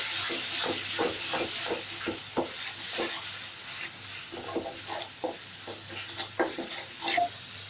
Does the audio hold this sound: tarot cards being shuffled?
no